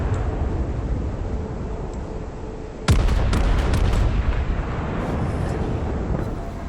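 Naval ship guns fire in a boat combat video game, a sudden loud blast followed by rolling booms and crackling rumble over steady engine and sea noise. Several smaller reports follow, and nobody speaks.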